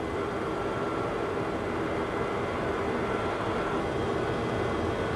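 VASP Airlines Boeing 737-200 jet engines roaring steadily at takeoff power, a dense, unbroken broadband rumble heard from inside the aircraft with no pauses or voices.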